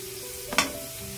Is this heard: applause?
no